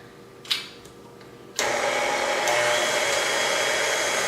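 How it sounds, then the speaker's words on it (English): Stand mixer starts up with a thump and settles into a loud, steady whirring drone while mixing gingerbread cookie dough, after a brief clatter and quiet moment beforehand. "Okay, so we're gonna start the mixer."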